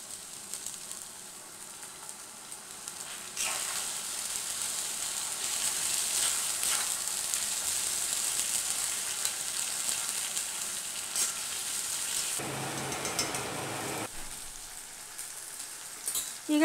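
Vegetables frying in a pan for hotel-style veg biryani, an even close sizzle throughout with a brief stir-like shift near the end, no voices.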